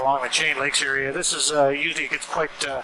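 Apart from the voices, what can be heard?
No everyday noises stand out.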